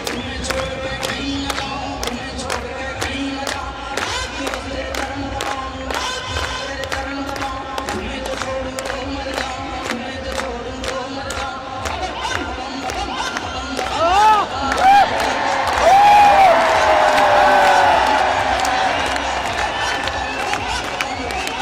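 A large crowd cheers and claps at the Wagah border retreat ceremony, with steady applause and shouting continuing over music and swelling louder toward the end.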